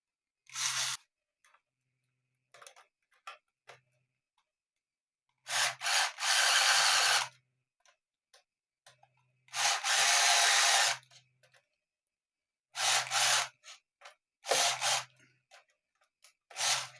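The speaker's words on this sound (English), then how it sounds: "And then I'm going to snug up these screws." Screws are snugged up with a hand tool, giving short bursts of rasping and grinding separated by quiet gaps and small ticks and clicks.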